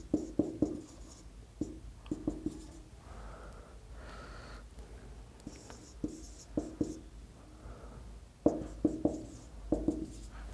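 Pen or marker scratching across paper or a board while equations are written out by hand for a linear-equations lesson, quick clustered strokes in bursts with pauses between, close and fairly quiet, with faint breathing.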